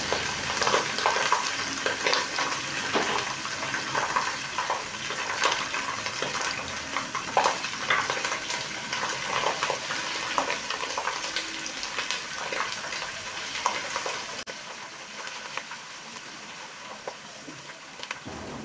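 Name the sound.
stirring tomato paste frying in a pot for cucumber stew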